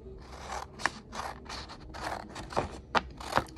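Scissors cutting out a printed paper charm template, a close series of quick rhythmic snips and scrapes with a few sharper clicks.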